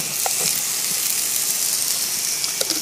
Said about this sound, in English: So I'm going to put to grill some onions and some tomatoes